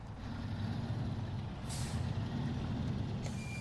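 Truck air brakes hiss in SnowRunner, a driving game set in Michigan, with two sharp bursts of released air over a steady, loud engine rumble.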